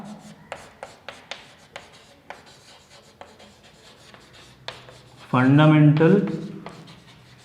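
A pen scratches out a physics definition in quick, light strokes of scratchy rubbing, heard under a teacher's steady talk, which swells louder near the end.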